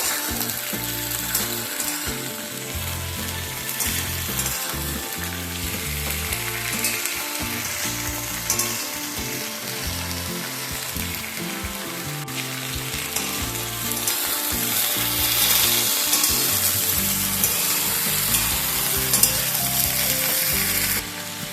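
Malabar spinach and vegetables are stir-fried in a pan over a medium-high flame, giving a steady loud sizzle with repeated scraping and stirring throughout, and no talk.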